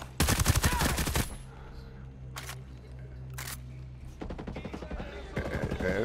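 Rifle fire in the video game Ghost Recon Breakpoint: a loud rapid burst of shots, then two isolated single cracks, then more rapid bursts toward the end.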